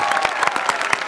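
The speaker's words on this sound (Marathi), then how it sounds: "जोरदार टाळ्या." A studio audience at a Marathi comedy show claps in a short, dense burst, many hands at once, loud and close for about a second with no talk over it.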